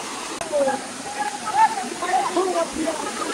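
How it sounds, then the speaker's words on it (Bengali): The Khaiyachora waterfall gives a steady, broad rushing roar of falling water that fills the whole scene, with faint voices of visitors mixed in nearby. "অনেক বড় একটা ঝর্ণা কিন্তু।"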